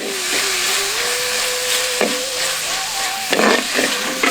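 Tomatoes sizzle and fry in a pan with occasional stirring scrapes, a steady hiss underneath and a few louder clatters near the end.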